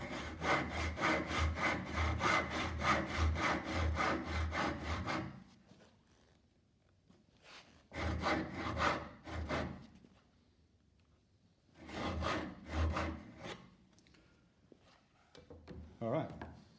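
Tenon saw cutting wood by hand along a marked line, steady rasping back-and-forth strokes in three bursts with pauses between, close and fairly loud.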